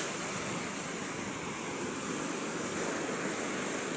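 Strong ocean waves in open sea where fishermen haul nets from boats, a steady broadband roar of surf and wind, continuous and fairly distant with no voices.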